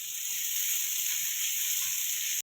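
Onions dropped into hot oil in a pan for Bengali-style masala pasta, giving a loud, bright, continuous sizzle that holds steady and then cuts off abruptly near the end, with no voices.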